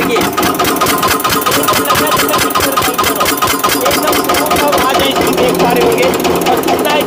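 An Eicher diesel engine runs steadily after a self start, a loud, dense mechanical clatter with rapid rhythmic knocking that holds at an even level throughout, while someone speaks briefly over it.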